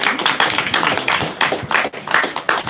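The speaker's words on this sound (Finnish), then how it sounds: "Annetaan Terhille vielä aplodit." Close, loud clapping from a small audience at a Finnish event, uneven bursts of hand claps with slight dips in rhythm, steady over a short span without talk.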